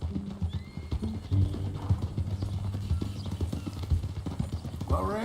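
Horse hooves clip-clop steadily in Red Dead Redemption 2, a close, rhythmic trot running the whole way under music, with a neigh near the end.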